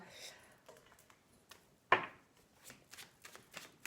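Tarot cards shuffled for a reading, soft riffling and tapping bursts with one sharp snap near the middle, quiet and close, with faint talk in the background.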